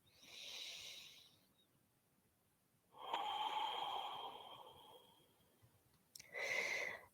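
Slow deep breaths drawn and released during a yin yoga pose, three soft airy breath sounds separated by quiet pauses, close and unaccompanied by talk.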